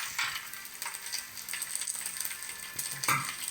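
Coconut pieces sautéing in a pan for a Kerala chicken curry, a faint, crackly sizzle with scattered light clicks and stirring scrapes, no talking.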